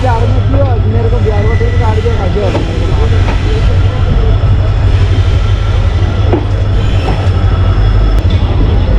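A Rajkot Express train pulls into Ajmer Junction railway station at dusk, its loud rumble heard from close by with squealing wheels and clattering rail joints, running steadily under the noise of a busy platform.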